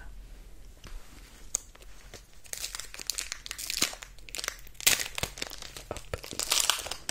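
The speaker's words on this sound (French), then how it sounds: "on en a fini avec le premier booster. Du coup, je vais dès à présent ouvrir le deuxième." Foil wrapper of a Pokémon card booster pack being crinkled and torn open, crisp rustling and crackling up close that builds in irregular bursts.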